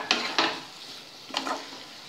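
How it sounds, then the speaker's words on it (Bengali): Prawns stirred into spinach in a frying pan: two pairs of quick scraping strokes of a spatula against the pan over a faint sizzle, with a quiet pause between them. "চিংড়ি মাছগুলো এর মধ্যে দিয়ে মিশিয়ে নিলাম।"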